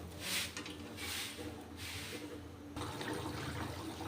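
Water is poured into a pan of simmering fish curry in a home kitchen, a close, rushing splash that comes in a few uneven surges before settling into a steady fill.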